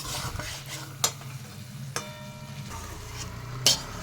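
Basella greens and gang morla fish are gently stirred in a sizzling pan, a soft frying hiss broken by three sharp clinks of the utensil against the pan, fairly quiet and with no talking.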